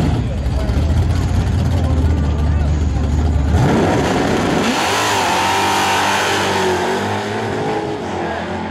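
At a drag strip, a black Mustang launches against a pro stock car, with a loud engine droning at idle and then rising in pitch as the cars accelerate away, while people talk over the noise.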